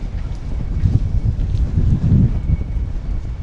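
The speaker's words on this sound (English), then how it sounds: "The wind, there's a lot of wind right now." Strong wind on a Tokyo street buffets the microphone as a loud, continuous low rumble with gusty swells throughout, with no voices heard.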